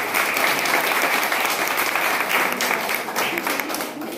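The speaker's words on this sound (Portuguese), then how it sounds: "Vamos dar mais uma calorosa salve de palmas para Ana Clara." A church congregation claps warmly at a baptism during Mass, a full, even patter of many hands sustained throughout and easing slightly at the end, no speech on top.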